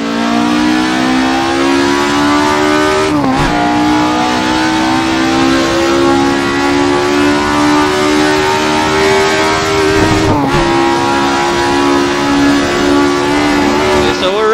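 A 1970s Ford Escort RS 1600 with a 1.8-litre engine, driven in Assetto Corsa on the Nordschleife, screams at high revs in a loud, continuous climbing pitch, broken by two brief dips at gear changes.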